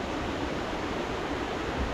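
Stream water rushes over rocks in a forest, a dense, steady broadband wash that stays loud and even throughout with no voices.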